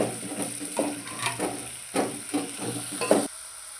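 Onions frying in a pan, a steady close sizzle broken by repeated scraping strokes and light clinks as a spoon stirs them, with no talking.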